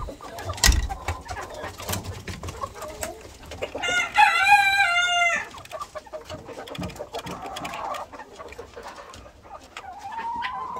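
A Dutch crested rooster gives one clear crow amid a yard of chickens, with scattered clucks, clicks and other bird calls around it, moderately close.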